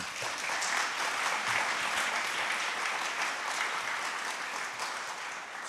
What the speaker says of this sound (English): Another round of applause for Dinesh.